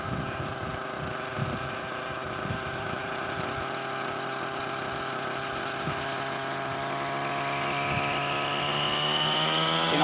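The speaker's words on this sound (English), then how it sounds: "We're going to spool it up nice and slow to half stick." Nitro RC helicopter engine spools up slowly toward half stick, a loud close buzzing whine with steady harmonics that rise gradually in pitch and grow louder toward the end, with no talking.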